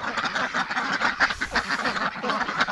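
Muscovy ducks, fluffed up against cold, gusty wind, give a steady dense chorus of nasal calls that blend into one continuous outdoor racket.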